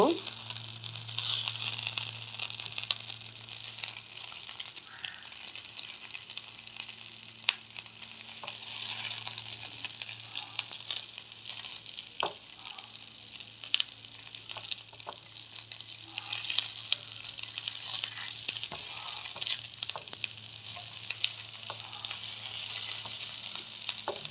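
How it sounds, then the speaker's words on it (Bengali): Bread and egg tikki shallow frying in oil, a steady bright sizzle with crackling spatters running throughout at moderate loudness, and a low hum beneath. "আমি শ্যালো ফ্রাই করছি, তোমরা এমনি ফ্রাইও করতে পারো।"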